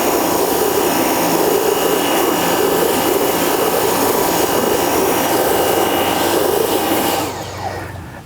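A Nilfisk C110 pressure washer runs a rotating patio cleaner over decking with a loud, steady rushing roar and a whining motor hum. The noise drops away near the end, and no one talks.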